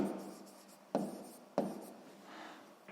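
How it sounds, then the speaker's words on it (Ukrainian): Pen strokes scratch across paper during a sixth-grade maths exercise, quiet and close, with a few sharper taps as new marks begin and soft rubbing between them. "Так, записуємо тоді відповідь"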